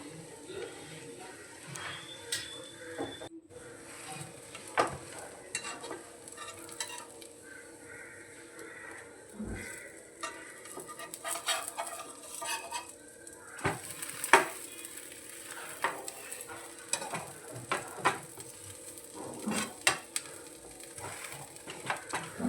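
Pav bread toasts in a pan with a soft, steady sizzle, while a utensil scrapes and stirs it in irregular taps and scuffs close by.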